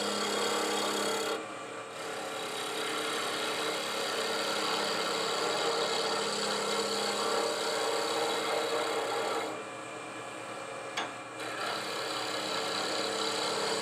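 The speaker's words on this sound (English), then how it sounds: "so if I can sand it down for a snug fit would be acceptable" Sandpaper rasps steadily against a spinning wooden scoop handle on a lathe, a continuous close-up friction hiss over the machine's hum, briefly dropping twice as the paper lifts away.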